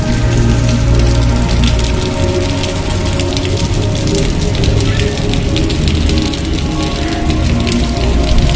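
Steady morning rain pours down at the General Post Office in Toba Tek Singh, a dense, even hiss of drops striking surfaces close by, with no break for the whole stretch.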